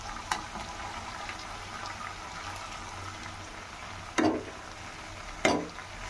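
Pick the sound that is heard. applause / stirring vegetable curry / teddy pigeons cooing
stirring vegetable curry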